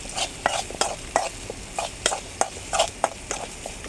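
Spoon scraping and stirring turmeric and spices around a hot frying pan, a steady run of close, rhythmic scrapes and knocks over a soft sizzle, with no talk.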